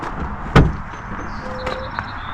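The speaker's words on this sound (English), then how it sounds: "that click, that door opens" A street rod's car door clicks open with a single sharp, close latch snap, followed by faint room ambience.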